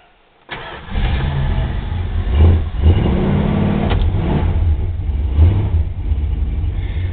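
A 1968 Dodge Coronet with an Edelbrock four-barrel carburetor fires up from an ice-cold start, cranking into a loud, close engine that catches and settles into a rough idle with a few blips of revving.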